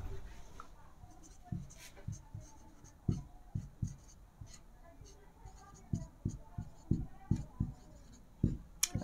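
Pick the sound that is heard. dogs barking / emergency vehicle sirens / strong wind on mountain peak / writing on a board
writing on a board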